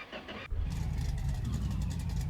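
A modified 1969 Dodge Charger fitted with a roll cage cranks briefly, then catches and settles into a loud, steady, rumbling idle close by.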